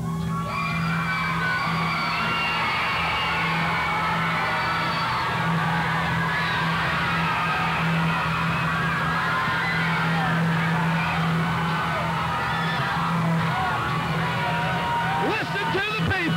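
A Texas pro wrestling crowd at a January 2000 event yells, whoops and cheers continuously for a wrestler, a loud dense roar throughout with a steady hum underneath.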